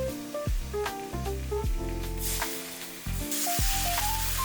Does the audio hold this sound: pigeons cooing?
no